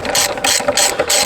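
A ratchet wrench loosens the bolts holding a seat in a van, giving about four quick bursts of dense, rasping clicks separated by short pauses, recorded up close.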